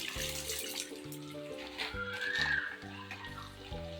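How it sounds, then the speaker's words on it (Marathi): Edible gum (dink) fries in hot ghee, making a steady bubbling sizzle throughout, with background music playing underneath. "हा डिंक मी आता तुपामध्ये छान तळून घेते"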